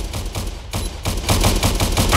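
Roblox Prison Life gunfire: a dense string of rapid shots fires in uneven bursts, pausing briefly before a louder, steadier volley toward the end. Nobody speaks.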